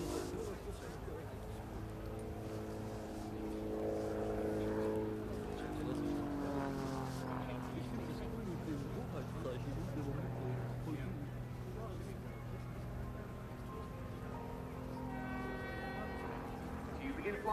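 A Grob G-115E Tutor propeller trainer flies an air display at RIAT 2012, its engine droning steadily at a distance with the pitch rising and falling as it passes, while a commentator talks over it throughout.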